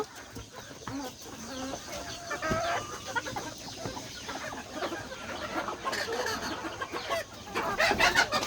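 A brooding hen clucks softly while using her beak to tuck an egg beneath her, with scattered clucks and faint crowing from other fowl in a farmyard setting.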